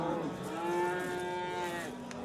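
At a livestock market in Fergana, Uzbekistan, a cow lets out one long, loud, drawn-out moo that swells and then fades, close by, with a faint murmur of the market behind it.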